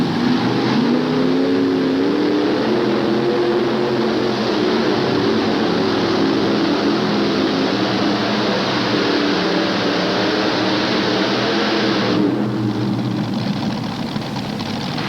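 At a 1988 tractor and truck pull in Charlotte, North Carolina, the pulling tractor Fancy Farmer roars loudly and continuously for about twelve seconds, then its engine note drops slightly.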